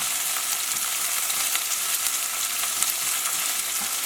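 Mushrooms and onions sizzle steadily in a hot pan, a dense, even crackle of frying that holds close and continuous throughout with no voices.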